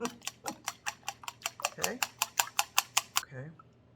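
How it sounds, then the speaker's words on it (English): Three eggs lightly beaten in a bowl with a utensil for carrot muffins, a run of about fifteen quick, even taps against the bowl close by, ending with a brief murmur of voice. "I'm just going to give them a light kind of beating, or lightly beat them"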